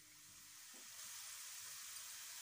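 A medium onion sizzles in hot oil in a pan for a fish curry, a steady, faint frying hiss with a soft stir or clink early on and no talk.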